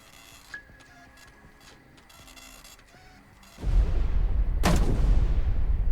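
A destroyer's depth charges fire in a submarine-hunting naval game: a quiet mechanical stretch with clicks, then a sudden heavy booming rumble and a sharp burst, the roar sustaining loudly to the end.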